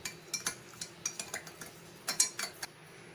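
A spoon stirs green-coloured sherbet with raisins and dry fruits, a quick run of light metallic clinks and taps against the vessel in irregular clusters; close, fairly quiet, with no talking.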